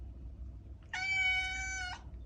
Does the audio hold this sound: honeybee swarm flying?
no